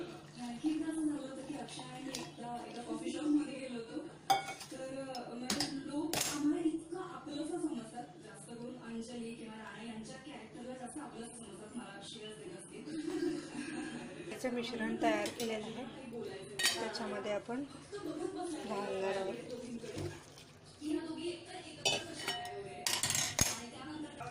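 A boiled tea and coffee mixture strained for soaking hair henna, with metal utensils and a pot clinking and scraping at close range throughout while someone talks.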